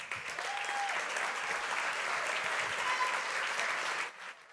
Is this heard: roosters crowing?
no